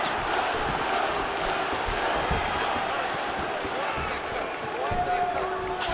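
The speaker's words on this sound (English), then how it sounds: "the crowd pops in appreciation as the fighters work their way back to the field" An arena crowd roars and cheers in the fighting video game EA Sports UFC 5, a dense, loud, continuous wash of crowd noise with scattered thuds underneath.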